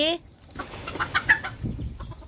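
Laying hens cluck and murmur softly inside a coop, a few short calls overlapping with light background rustle.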